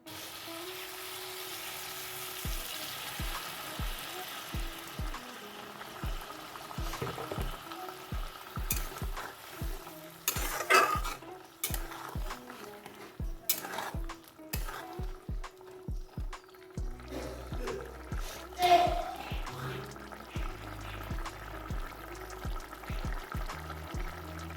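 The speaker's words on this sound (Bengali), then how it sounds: "এইবার আমি সামান্য একটু জল দিয়ে আবার এটাকে একটুখানি কষিয়ে নেব।" Potatoes and tomato for a fish curry sautéing in a pan, a steady frying sizzle with repeated stirring scrapes and clanks of the spoon throughout, close and moderately loud with no talking.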